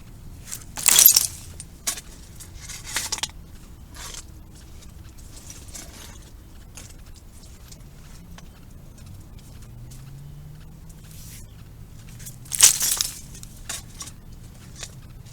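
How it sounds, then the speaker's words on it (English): Pieces of depression glass, dug from an old Pepsi dump, clink and chink as they are handled: a few sharp, bright knocks spaced far apart, separated by long stretches of quiet outdoor background. "Here's another piece of depression glass"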